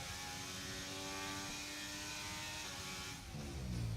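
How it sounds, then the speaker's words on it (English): A high-revving Renault Formula 1 engine in the video game F1 2023 drones steadily with a whining tone, then shifts pitch near the end; no voices. "So you're just listening into the Renault engine."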